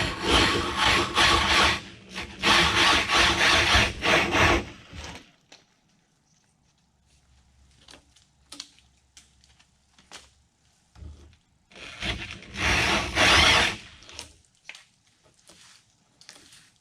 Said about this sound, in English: I've never cut anything harder than pine with these tools before, so it's going to be interesting to see how they handle the walnut.